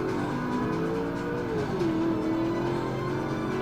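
A race car engine in the Forza racing video game holds a steady, loud drone with a pitch that dips and then settles, running continuously with no talk over it.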